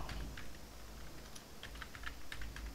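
Keystrokes on a computer keyboard while entering product names into a database form, a quick irregular run of soft clicks close by with brief pauses between bursts.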